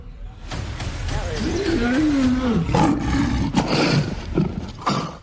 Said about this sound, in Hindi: ये एक रॉयल बंगाल टाइगर की दहाड़ है।